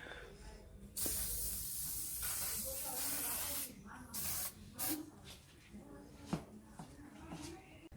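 Aerosol sunscreen hisses from a spray can onto a face in several bursts, one long steady spray followed by shorter puffs, close and loud with brief pauses between.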